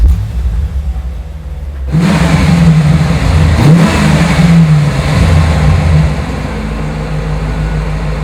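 A 1995 Chevrolet Corvette coupe's engine roars up under acceleration on a test drive, a steady loud rumble after a quieter start, with a brief dip and surge midway.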